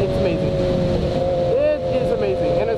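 A motorcycle engine being shifted without the clutch, throttle held open: a loud, sustained roar with brief pitch dips between gears, heard close amid wind noise.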